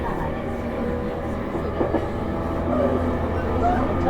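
A JR East E231 series commuter train runs on the Tokaido Line between Hiratsuka and Atami, heard from inside the car as a steady rumble of wheels and motors with faint squeals and rising intensity toward the end.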